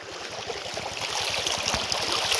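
A stream of water rushes across a path in the Gir forest, giving a steady, close, broadband flowing and churning wash with no voices.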